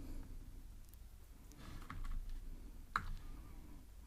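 Soft, scattered keystrokes of code typed on a computer keyboard, faint and close, with one sharper click standing out among the quiet taps.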